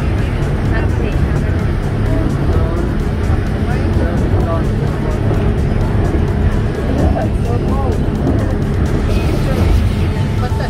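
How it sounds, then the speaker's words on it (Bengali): Speedboat crossing rough, big waves on the way to Nusa Penida, Bali: a loud, steady engine roar and rushing water hiss fill the whole stretch, with voices talking underneath. "তা আমরা স্পিড বোটে উঠে গেলাম"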